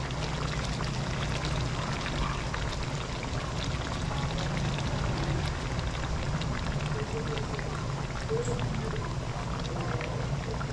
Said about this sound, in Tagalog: Kaya para mas masarap, lagyan natin ng gata.